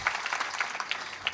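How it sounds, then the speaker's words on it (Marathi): An audience claps for young children at a devotional gathering in Maharashtra. The applause is steady but faint and distant, with no talk over it. "लहान बालकांसाठी जोरदार टाळी वाजवा"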